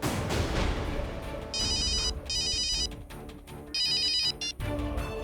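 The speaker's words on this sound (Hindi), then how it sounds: "हाँ, मोबाइल कंपनी से फोन था।" A mobile phone ringtone chirps in three repeated bursts, loud and close, over a busy, dramatic background score from a TV crime drama, with no talking.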